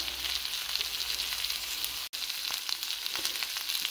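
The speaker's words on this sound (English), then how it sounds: "I'm going to add a little compound butter in the bottom of the pan now" Compound butter and aromatics sizzle steadily in a steak pan, a bright continuous hiss close up, with one brief drop in the middle.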